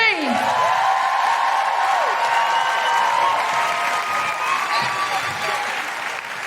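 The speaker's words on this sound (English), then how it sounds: "to close the show, a big round of applause for the incredible Grace Petrie." A live podcast audience in Sydney breaks into loud, sustained applause with scattered whoops and cheers that slowly ease off.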